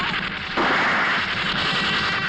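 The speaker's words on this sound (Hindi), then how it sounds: "गोलियां चल रही है, गोलियां" Gunshots crack in a dense, loud burst of rapid overlapping fire, with no speech heard.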